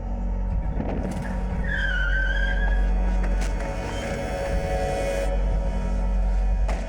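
A car rumbles nearby and its tires squeal briefly as it brakes to a stop, followed by a few sharp knocks over a continuous low hum.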